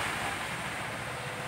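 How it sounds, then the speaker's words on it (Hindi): The Brahmaputra river flowing past in the rain, heard as a steady, dense rushing wash with wind buffeting the microphone and no voices. "और सामने देख सकते हैं पूरी ब्रह्मपुत्र नदी बहकर आ रही है"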